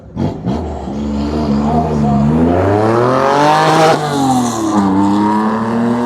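A 1970s Porsche Carrera accelerates hard up a hill climb at a festival, a loud close engine climbing in pitch through several gear changes, with crowd chatter beneath.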